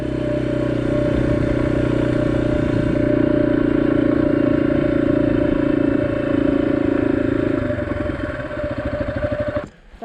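A motorcycle engine running on a rough mountain trail toward a peak, a loud steady drone with rattling clatter, rising slightly midway before easing off and cutting out near the end.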